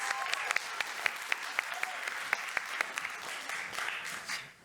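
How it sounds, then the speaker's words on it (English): Conference audience bursts into applause, a lively patter of many hands with a few sharp, louder claps standing out, tapering off at the end. "Okay, give them an applause"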